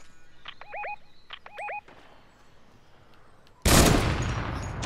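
Gunfire in a video game. A few electronic chirping tones come first, then a sudden loud burst of dense, sustained shooting that fills the end of the clip. No voices are heard.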